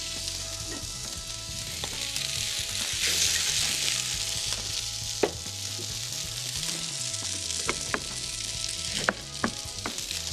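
Vegetables for freekeh roasting in a hot pan: steady loud sizzling and frying with occasional stirring clanks and scrapes, no talk.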